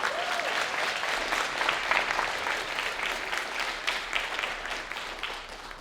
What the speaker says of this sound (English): So we can get a round of applause for my homies in the front right there.